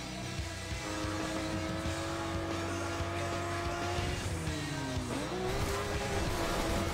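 Car engine droning steadily in the Forza Horizon 2 racing game, its pitch sliding and wavering as the car sways, with sustained tire squeal over a constant loud mix and no talking.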